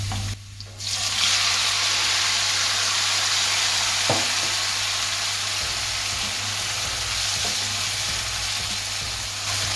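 Chopped tomatoes with chili flakes sizzle steadily in a hot pan for pasta arrabbiata sauce, a continuous close hiss with faint stirring taps and clinks.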